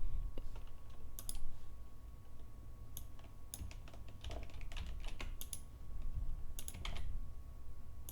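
Keys clack on a computer keyboard in quick irregular bursts of close, crisp taps, pausing briefly between runs over a low steady hum, with no voices.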